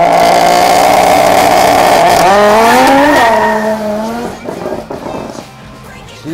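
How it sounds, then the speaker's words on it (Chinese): A drag race car launches hard on a straight track in Taitung, its engine screaming through rising gears before the revs hit the limiter and the computer cuts power, leaving the note sagging and sputtering away, loud and close. "起跑真的很快，可是后来进档，然后转速过了我们限制的转速后，电脑进入保护状态"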